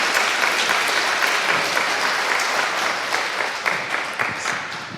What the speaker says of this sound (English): So, a bit of applause,